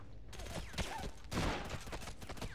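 Enemy gunfire in SOCOM U.S. Navy SEALs Combined Assault, a dense, continuous rattle of rifle shots with sharper bursts swelling midway, loud and close, with faint voices in the mix.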